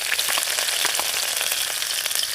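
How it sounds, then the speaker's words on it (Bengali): Chopped green chillies frying in mustard oil in a wok give a steady, close, bright sizzle with small crackles throughout, with no voices. "তেলের মধ্যে প্রথমেই দিয়ে দেবো কাঁচা লঙ্কা কুচি"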